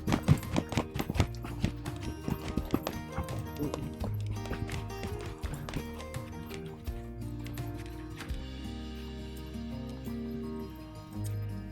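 A horse trotting during a riding session, with rhythmic hoof clip-clops over a soft background, close by and fairly quiet, steady beats continuing throughout.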